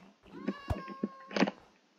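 A cat in Minecraft Bedrock Edition gives a few short, close meows with a soft tonal rise, spaced over two seconds, under faint background sound.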